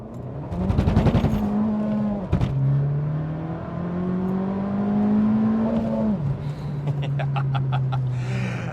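Abarth F595 hatchback driving and accelerating, its engine revving up through rising pitch sweeps and gear changes, with a rapid crackling burble from the exhaust, loud and close throughout.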